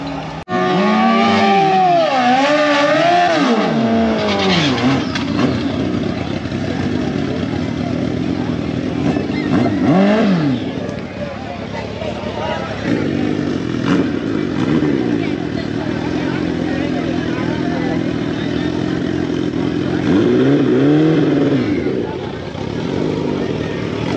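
Suzuki GSX-R1000 motorcycle engine revving loudly at close range during street racing, sustained high drone with rising and falling throttle sweeps, wind noise, and talking over it.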